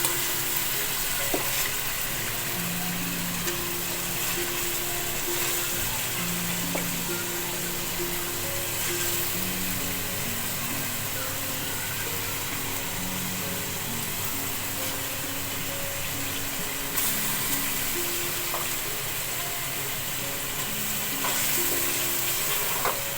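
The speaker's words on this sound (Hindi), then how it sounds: "ये देखें पसंदे मैंने थोड़े इसमें भून लिए हैं" Thin beef pasanday slices fry in a pan with a steady sizzle while being stirred, the scraping and stirring continuing in near, even bursts throughout.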